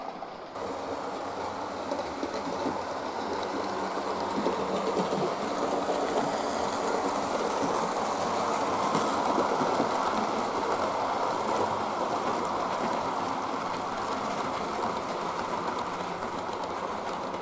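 A steady, continuous whirring rumble of a small model A4 steam locomotive hauling a train along its track, with a faint rhythmic clatter, even and sustained throughout.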